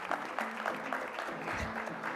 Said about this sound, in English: Round of applause for Brad.